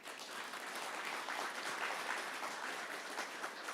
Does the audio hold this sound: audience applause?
yes